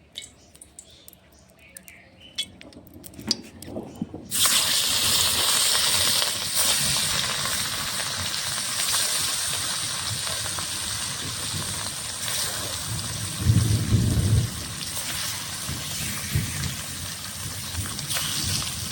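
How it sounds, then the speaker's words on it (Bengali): Pieces of rui fish are dropped into hot oil in a pan. A loud, steady sizzling hiss bursts in suddenly after a few quiet seconds and keeps going close by, with faint clinks underneath and no talking. "তেলটা গরম হয়ে গেছে, মাছগুলো ছেড়ে দেব তেলে।"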